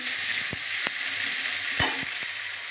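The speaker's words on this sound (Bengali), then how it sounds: "পেঁয়াজ আর কাঁচা লঙ্কা বাটা একটু ভেজে নেব" Onion and green chilli paste fries in hot oil with a loud, steady close sizzle, broken by a few sharp scraping stirs.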